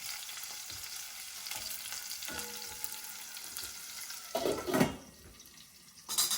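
Rice for an Indian ginger cardamom dish is stirred in a hot pan: a close, continuous sizzle, broken by louder scraping bursts of spoon against pan near the end.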